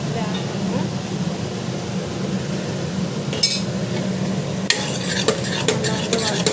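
Onion and tomato puree being stirred and sautéed in a pan, a low steady cooking rumble with spoon clinks and scraping against the pan, louder clatter near the end, and a voice faintly in the background.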